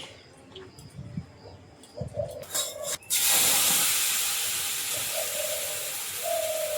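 Rice boiling on a stove breaks into a loud, steady steamy hiss that slowly fades, preceded by soft pigeon coos and a few clatters in a quiet kitchen.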